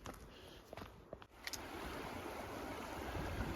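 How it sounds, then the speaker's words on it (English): The Elbow River runs in a steady broadband rush, running high. A few brief clicks and scuffs come early, then the flow continues alone at moderate level. "This is Elbow River."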